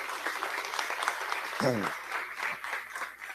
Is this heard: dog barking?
no